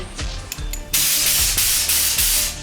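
Loud bursts of rushing compressed air from a Procraft BG 34 blow gun at 6 bar hiss in repeated blasts, each one sharp and sustained, preceded by a few short clicks and thumps.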